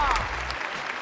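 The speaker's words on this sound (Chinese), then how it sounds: "来，掌声给他们" A studio audience applauds on a Chinese celebrity cooking variety show, a steady, dense wash of clapping that runs through the short moment with a voice speaking over it.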